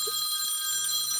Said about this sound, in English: the phone has to start ringing all of a sudden, right?